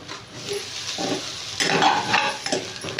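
Paneer tipped into a hot pan and stirred, with soft sizzling and scraping of the spoon against the pan, louder in the second half, no talk.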